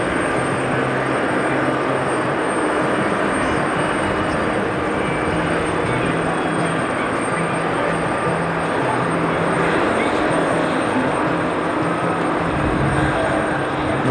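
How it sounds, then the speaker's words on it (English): A Boeing 777 airliner arriving at JFK, American flight from Athens, produces a steady, distant jet engine roar with a low droning hum that stays even throughout with no talk. "777 coming in from Athens. Operating as American 333."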